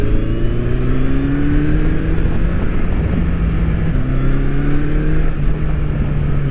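Honda CB1100 air-cooled four-cylinder 1100cc motorcycle engine pulling steadily at moderate revs while riding, a continuous close droning hum that rises slightly in pitch, with a brief dip as the rider shifts gear.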